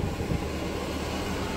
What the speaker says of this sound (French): Un semi-remorque avec des voitures.